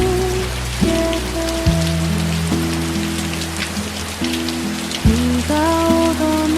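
Steady rain patters on a surface as constant soft white noise, mixed under sustained mellow lo-fi music chords with no voices.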